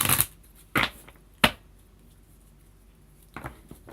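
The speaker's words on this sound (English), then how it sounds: "It's so difficult to shuffle these cards." Bursts of a large deck of cards being shuffled, three quick riffles in the first second and a half, then a pause before more soft shuffling near the end.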